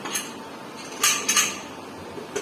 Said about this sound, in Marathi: कुकरचं झाकण लावून घेऊया